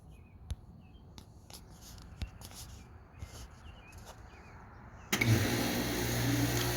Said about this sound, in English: You can hear my air conditioner kick on outside.